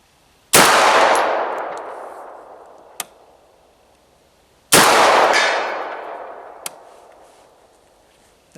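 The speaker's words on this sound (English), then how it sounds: "Let's put a few more rounds down there." Two loud, sharp blasts from a smooth bore shotgun firing sabot slugs at a target, each followed by a long fading rumble and a faint distant click or impact a couple of seconds later, spaced about four seconds apart.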